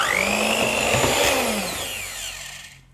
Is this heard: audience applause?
no